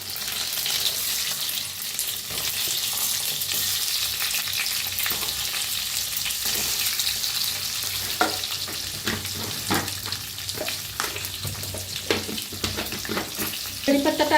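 Green chillies frying in hot oil with mustard seeds, cumin and asafoetida, a steady bright sizzle throughout, joined later by scattered crackles and stirring clatter.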